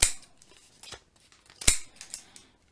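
Scissors snip the corners off a sheet of paper, several sharp close clicks and crisp cuts in an irregular sequence, one especially loud snip near the middle.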